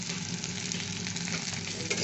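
Round slices of bitter gourd fry in a pan with a sprinkle of salt. The sizzle is steady and close, with faint stirring and no talk.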